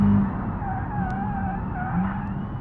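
A race car on the Nurburgring brakes hard from 167 with a steady, loud engine drone and a wavering whine, with no voices.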